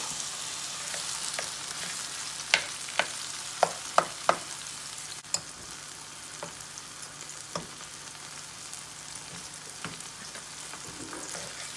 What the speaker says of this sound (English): we're going to just saute this now. Our onions and tomatoes and garlic.